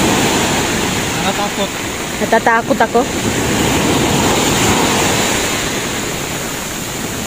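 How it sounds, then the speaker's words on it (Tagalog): Sea waves washing onto the shore, a steady broad roar of surf running through the whole stretch, with a short burst of a woman's speech partway through. "parang pag pumupunta yung alon dito"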